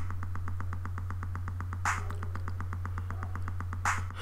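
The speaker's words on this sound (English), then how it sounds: "so you can hear just the Boutique 78 kick in the clap real quick" Boutique 78 drum machine kick and clap pattern: a steady run of short, evenly spaced hits with a louder clap landing roughly every two seconds, over a constant low hum, no voices.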